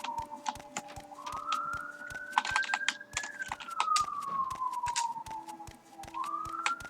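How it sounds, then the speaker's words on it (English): A wailing siren rises and falls slowly in the distance, moderately faint, with clattering computer keyboard typing heard throughout over it. "I don't know what the siren's all about."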